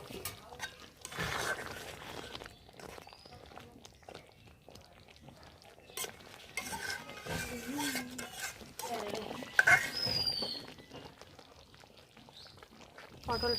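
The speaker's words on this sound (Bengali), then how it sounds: "এখন দিয়ে দেব ভেজে রাখা পটল।" Fried pointed gourd pieces tumble into a pan of cooked spices, giving soft clatters and stirring scrapes at low level amid a quiet kitchen, with someone speaking intermittently.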